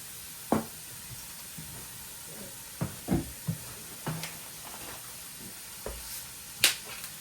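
Ground beef cooking in a pan gives a faint steady hiss broken by scattered sharp pops and crackles at irregular intervals, close by, with no talking.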